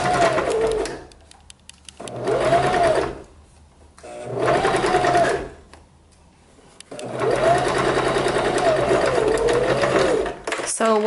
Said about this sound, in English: So I'm gonna stitch as close as possible to our original seam on top of the seam